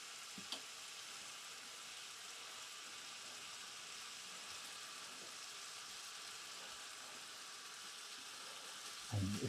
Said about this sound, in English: if you hear the meat is bubbling rather than sizzling, lesson has been learned this time